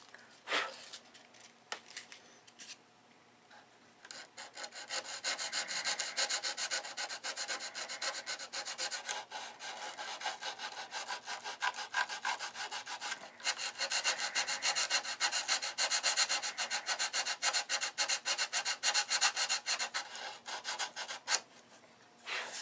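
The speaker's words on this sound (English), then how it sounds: "With detail sanding now." Wood being detail-sanded by hand on a new build, with steady, scratchy back-and-forth rubbing strokes that run close and fairly loud after a quieter start.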